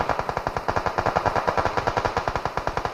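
Rapid automatic gunfire in the mobile shooter game PUBG Mobile, a loud, steady stream of about ten shots per second lasting the whole three seconds, with no voices.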